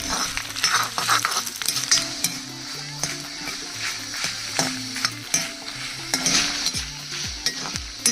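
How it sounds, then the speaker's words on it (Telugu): Dried red chillies fry in hot oil in a pan, giving a steady close sizzle broken by repeated scraping and stirring clinks of a ladle against the metal. "ఇప్పుడు ఎండుమిర్చి వేసుకోవాలి చక్కగా దోరగా వేగించాలండి"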